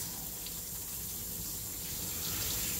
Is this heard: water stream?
yes